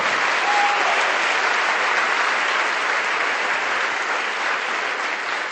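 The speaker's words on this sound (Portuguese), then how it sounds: "dê um aplauso ao Senhor. Pode ser forte esse aplauso." A church congregation gives strong, continuous applause to the Lord, a dense, even wash of clapping that holds steady and loud from start to finish.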